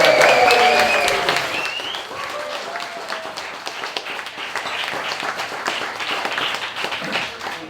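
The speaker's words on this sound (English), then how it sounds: "let's have a round of applause for every single baker and a huge effort" An audience at a cake competition applauds the bakers with steady clapping, opening under a voice and continuing evenly at moderate volume.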